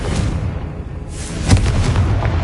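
Confringo explosive spell cast in Hogwarts Legacy, a loud booming blast that bursts out after a steady rumbling game background, with a continuing roar afterward.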